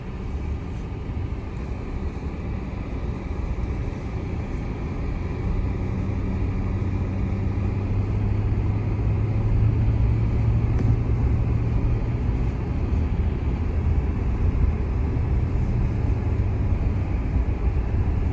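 A truck tows a trailer carrying a Chevy C-10 along a North Carolina road. The cabin is filled with a steady low engine and road drone that swells slightly midway, with no one speaking.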